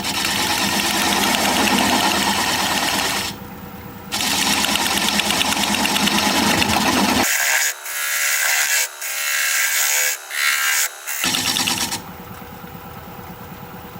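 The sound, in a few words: wood lathe turning, cutting a tenon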